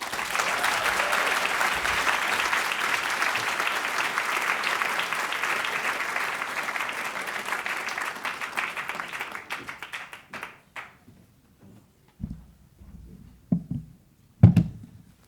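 Sustained crowd applause at an award show honoring Best Actress winner Olivia Colman at the 44th annual LAFCA awards, loud and steady for about nine seconds before fading into scattered claps and quiet stretches.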